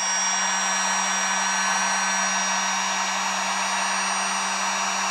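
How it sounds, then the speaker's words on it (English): A heat gun set to low heat blows a steady, loud broadband rush with a constant hum underneath, used to shrink insulation on car wiring connectors. "it's a lot better if you actually have a heat gun like this one"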